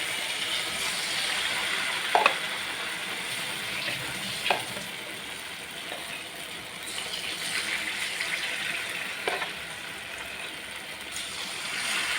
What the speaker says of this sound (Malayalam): ഉണ്ടാക്കി വെച്ച പയമ്പൊരിയുടെ മാവ് കുറേശ്ശെയായി അതിലേക്ക് ഒഴിക്കുക